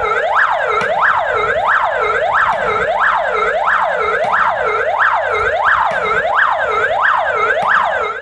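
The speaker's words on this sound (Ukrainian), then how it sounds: "Хвилина мовчання та звук сирен пожежних авто." Loud wailing fire engine sirens rising and falling in a rapid, regular cycle, several sounding together without pause during a minute of silence at a Chernobyl liquidation memorial in Ukraine.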